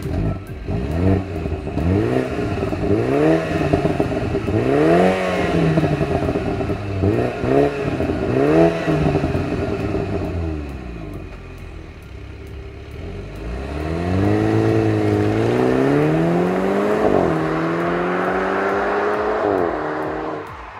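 A BMW 430i xDrive Gran Coupé accelerating hard in sport mode, engine revs climbing repeatedly through quick upshifts, then a longer sustained pull after a brief lull, heard up close without talk.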